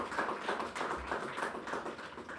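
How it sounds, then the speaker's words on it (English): Scattered clapping from a small audience at a book launch event, steady and moderately close but fairly quiet, running without a voice over it. "That deserves a round of applause."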